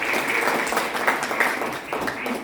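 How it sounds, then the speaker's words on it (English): An audience at a robotics company's open day presentation at its head office claps together in a dense, steady burst of applause lasting a couple of seconds, with no voices standing out. "Give yourself a warm round of applause"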